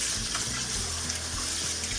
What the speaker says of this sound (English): Basically, you're washing the rice.